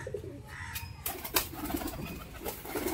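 A tumbler pigeon, just released for aerial display, coos in soft low bursts amid steady outdoor background noise and a few sharp bumps, with no talking.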